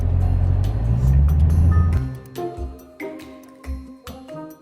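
Car rolling into a venue, a close low engine rumble that eases off after two seconds into quieter intermittent thumps and rattles as it creeps forward.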